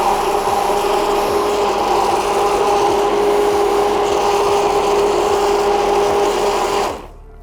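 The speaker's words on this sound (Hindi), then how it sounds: "इसको बहुत अच्छे से हमने ब्लेंड करना है।" A kitchen blender whirring as it blends a Rooh Afza drink, a steady high motor hum running loud and constant for about seven seconds before cutting off abruptly.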